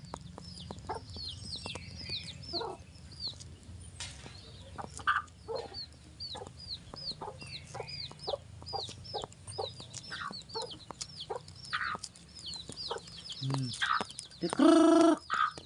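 Hens cluck and chatter in short, scattered bursts around a yard at feeding time with whole corn, some near and some farther off, with a louder squawk near the end.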